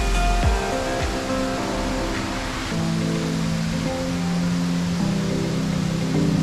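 A large waterfall in the Todtnau valley of the Black Forest, Germany, cascades over granite walls, a steady, loud broadband roar of falling water with a few faint background tones.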